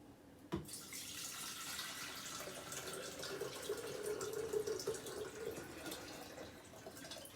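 Water runs steadily from a tap into a sink, a continuous splashing rush heard up close after a brief clunk at the start.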